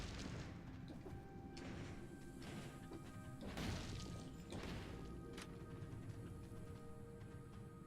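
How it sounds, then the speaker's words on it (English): Ice bomb dropped in Dead Cells, a quiet game scene with a few soft thuds and crashing impacts over a low, steady background. "so we're gonna drop the ice bomb"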